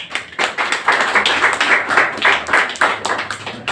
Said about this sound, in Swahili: Tafadhali tuwapigie makofi na tuweze kuwakaribisha.